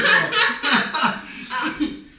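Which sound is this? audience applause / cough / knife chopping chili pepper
cough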